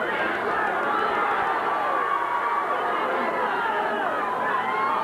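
A large, vocal crowd of about three thousand fills an indoor arena in Phoenix during a featherweight boxing bout, producing a steady, dense roar of chatter and shouting that holds at an even level throughout.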